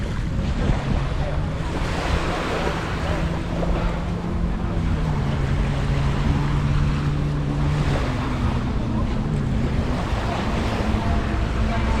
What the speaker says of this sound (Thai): บรรยากาศริมทะเลตอนเย็นๆนะ